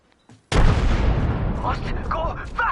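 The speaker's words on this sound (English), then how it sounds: "Grenade out." A grenade goes off in a video game with a sudden loud, close boom that rolls into a long decaying rumble; brief voices sound faintly beforehand and afterward.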